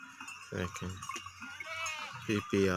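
Goats and sheep held for a PPR vaccination bleat several times in short, loud bursts, mixed in with someone talking nearby.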